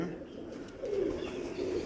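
Breeder pigeons at a loft in Kasur give low soft coos that swell slightly midway, with faint background voices and noise.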